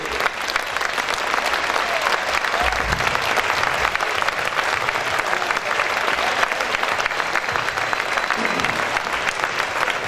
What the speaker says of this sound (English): one more huge round of applause